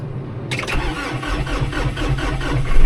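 A light Citation snowmobile engine fires up after a brief cranking whir, then settles into a loud, steady, close rumbling idle that rises slightly at the end.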